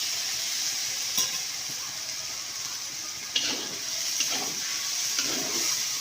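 Masala sizzles steadily in a hot pan at home during cooking for a New Year chicken curry meal, with occasional scraping knocks from stirring over a continuous frying hiss.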